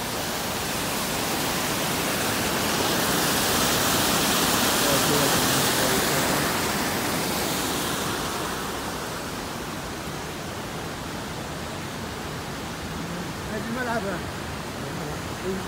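A river with waterfalls at Maşukiye near Sapanca rushes with a steady broadband roar, loud and close at first, then easing slightly. Faint voices come through near the end.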